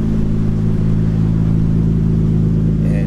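A Nissan Skyline R33 GTR with its RB26 twin-turbo 2.6 engine idles steadily nearby, a deep, even, throbbing rumble that holds constant with no talking over it.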